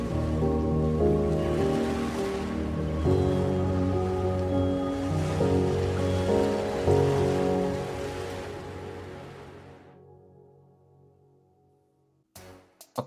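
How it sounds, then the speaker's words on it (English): Ocean waves roll in a music video, a steady broad wash of surf that stays loud for about ten seconds and then fades away, ending in a few brief clicks. "That ocean sound is very relaxing."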